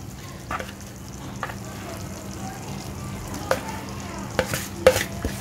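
Boiled rice going into a chana biryani pot and being stirred, with scattered scraping and stirring clatters over a steady low cooking sizzle, growing busier toward the end.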